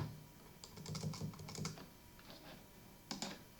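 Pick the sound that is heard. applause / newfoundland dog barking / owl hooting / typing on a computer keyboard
typing on a computer keyboard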